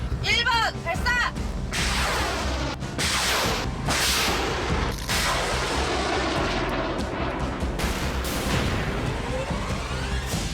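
A Bigung small guided rocket fires from its launcher with a loud, sustained roaring blast and whoosh that fills the whole stretch. The rushing noise holds steady, with a few sharper cracks early on.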